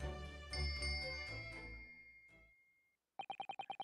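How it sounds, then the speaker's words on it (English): Pulling a bell cord in a cabin in the Great Ace Attorney video game brings a resonant chiming ring that decays away, then a quick run of short, bright repeated dings. "Yes, it's a bell cord."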